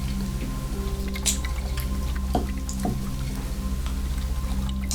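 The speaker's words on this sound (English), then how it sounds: "you can hear the sound of what seems to be running water or a dripping noise from that door" Dripping water in the horror role-playing game Dread: The Hexham Horror, a few soft drips landing irregularly over a steady low hum and continuous background noise.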